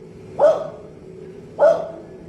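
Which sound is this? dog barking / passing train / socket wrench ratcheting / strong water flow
dog barking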